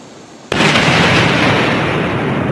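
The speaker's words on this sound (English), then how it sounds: "This viral video of an explosive on the Teesta river bed was a controlled explosion according to Indian Army sources." A controlled explosion of explosives on the Teesta river bed in North Sikkim, heard as one sudden loud blast that turns into a sustained, roaring rumble of debris and echo lasting a couple of seconds.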